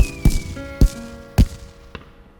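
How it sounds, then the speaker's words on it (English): Cartoon fireworks bursting in a children's animated show: three loud booming thuds in quick succession, then a fainter fourth pop, over a soft musical backdrop with a descending whistle. "The fireworks are going so high."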